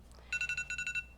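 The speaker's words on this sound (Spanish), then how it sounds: "Perdonen que he puesto la alarma." A phone alarm goes off during a lecture on Sorolla and artisan schools, giving a rapid series of about eight bright electronic beeps that are clear and fairly loud over a quiet room.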